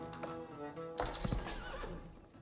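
A single horse in the medieval strategy game Age of Empires 4 gives a short, loud neigh with a whinnying flourish, followed by a few hoof clops and snorts.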